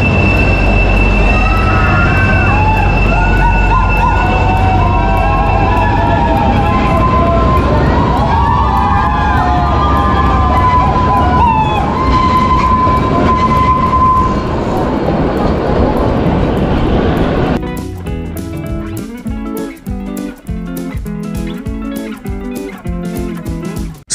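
A Kalka–Shimla narrow-gauge toy train runs along its mountain rails with a loud, steady close rumble and occasional high wheel squeals for about seventeen seconds, after which music takes over.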